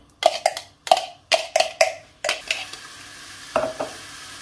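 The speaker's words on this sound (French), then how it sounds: "on a fait chauffer un peu d'huile d'olive. Donc on va le faire blondir." Chopped onion browning in hot olive oil is stirred with a utensil, producing a series of distinct scraping clacks against the pan over a soft sizzle, the strokes irregular and close, with a final pair after a pause.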